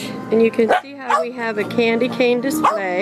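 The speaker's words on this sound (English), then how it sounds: "the dogs are barking because I'm talking" Dogs at a home garage bark and yip repeatedly in sharp, close bursts while a person talks over them throughout.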